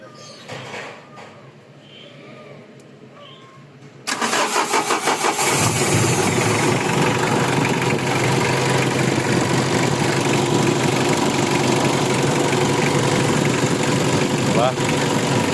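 A 2016 Mitsubishi L300 XV with a 4D56 diesel engine cranks and catches after a few quiet seconds, then settles into a loud, steady, clattering idle heard close up. A voice is faintly audible before the start.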